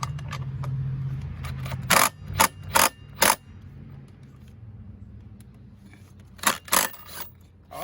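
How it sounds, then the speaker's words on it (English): A Bosch impact wrench hammers at a clutch bolt on a Suzuki King Quad 450 ATV in several short, loud bursts, four in quick succession then two more after a pause, over a low background hum. "I'm going to attempt to use the Bosch impact to get this bolt off."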